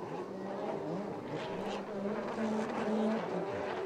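Jet ski engines whine and rev in a pack of closely bunched riders on a technical pro racing course at Eau d'Heure Lakes, Belgium, a steady, droning buzz with shifting pitch throughout.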